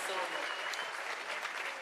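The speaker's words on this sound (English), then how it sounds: "Let's give a round of applause to the Krakowiaks" Audience applause for guests at a mass Bar Mitzvah for 120 orphans, a dense steady wash of many hands clapping that holds at even loudness throughout with a slight rise at the very end.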